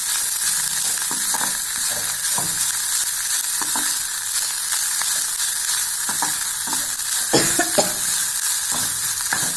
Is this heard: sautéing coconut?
yes